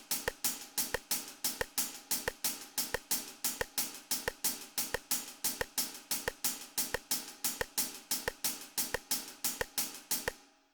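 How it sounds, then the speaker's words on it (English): A snare drum runs a steady practice exercise at 90 BPM, grace notes leading into accented strokes in an even, repeating pulse, clear and close with no talking until the final hits fade out. "2 snares in a row with a grace note followed by an accent"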